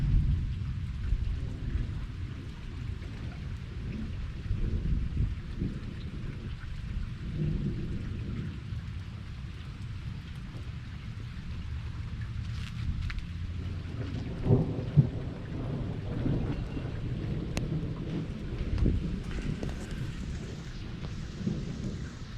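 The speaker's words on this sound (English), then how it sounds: "Hear that rolling thunder?" Heavy rain falls steadily while deep rolling thunder rumbles again and again during a storm, with a few sharper cracks toward the end and no talking.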